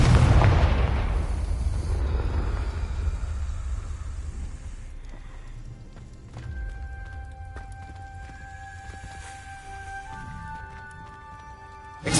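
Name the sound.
Confringo blasting spell explosion in Hogwarts Legacy, video game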